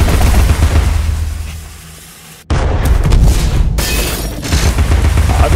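Gunfire in the action video game Alice: Madness Returns, a loud dense barrage of booming shots that fades away and then bursts back in abruptly and keeps firing to the end, with no voices.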